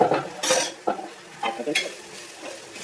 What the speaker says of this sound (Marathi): ओके, खोबरं पण चांगलं भाजायचं.